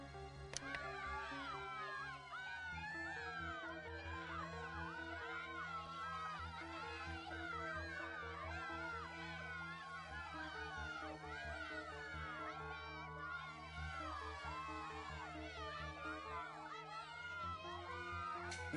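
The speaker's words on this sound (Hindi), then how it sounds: "लगता है जैसे किसी फायर स्टेशन का सायरन है" Wailing fire station sirens rising and falling in overlapping sweeps, fairly distant, over a steady low hum and faint background murmur.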